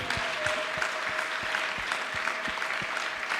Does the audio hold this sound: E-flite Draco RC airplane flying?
no